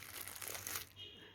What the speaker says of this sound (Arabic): بجيب كيس ماشي واروح جايه مغطيها كده